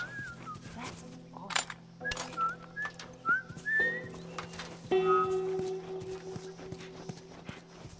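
A character in The Last of Us Remastered whistles a short wavering tune, mixed with horse hoof clops and other game sounds, then a sustained tone.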